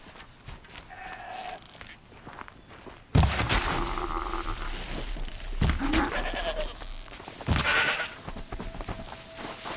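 A goat in Horizon Zero Dawn gives a few short bleats over faint game ambience, followed by heavier thumps and rustling movement.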